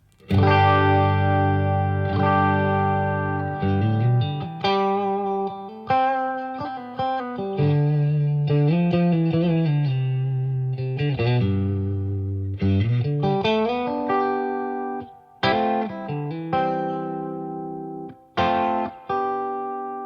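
A Mayones electric guitar in its full humbucker pickup position plays a thick, warm melodic phrase with sustained notes and slides, moderately loud with a touch of chorus and reverb, no voices.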